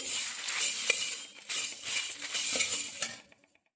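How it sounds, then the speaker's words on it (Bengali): Spices being stirred in a pan while cooking chyawanprash: light scraping and metallic clinks of a spoon in short close strokes, with a faint sizzle underneath, ending in quiet. "এইবারে আমি এইগুলো একটু হালকা নেড়ে নিলাম।"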